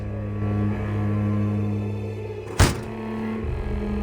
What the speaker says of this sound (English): let's unlock this